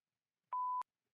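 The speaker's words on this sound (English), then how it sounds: "Sorry for the beeping." A single short electronic beep from a game, clean and steady tone lasting a fraction of a second, alone in silence.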